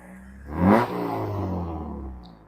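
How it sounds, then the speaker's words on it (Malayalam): A used Honda City Type-2 car engine revs once, swelling quickly to a throaty peak, then settles into a sustained, steady hum before fading slightly, heard up close with no talk. "സൗണ്ടൊക്കെ അന്യായ സൗണ്ടുള്ള വണ്ടി തന്നെയാണ് കേട്ടോ"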